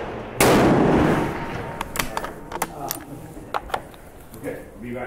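A loud gunshot from a firearm firing test loads at an outdoor shooting range cracks out once near the start, trailing off, followed by quieter clicks and handling sounds with a voice speaking in the background.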